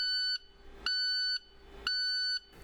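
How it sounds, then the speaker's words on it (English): Warning alarm on an International ProStar truck for a full DPF exhaust filter: three evenly spaced electronic beeps, each about half a second long with a bright tonal ring, steady and close, with no voices. "If the DPF light is flashing with a beeping alarm,"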